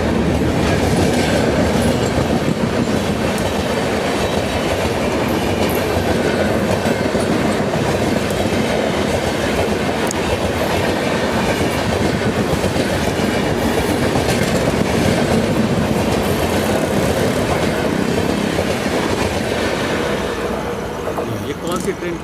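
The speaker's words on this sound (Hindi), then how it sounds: "ये ट्रेन हावड़ा पार हो रही है।" A Howrah-bound train rolling past on the rails, a loud sustained rumble with rhythmic clickety-clack of wheels over joints close by, fading slightly at the end, with speech faintly under the noise.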